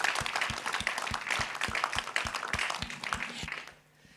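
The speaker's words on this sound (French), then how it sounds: "Je pense qu'on peut l'applaudir." An audience at a round-table discussion applauds a speaker, with steady clapping and a few sharper beats for several seconds before it quickly dies away into near silence.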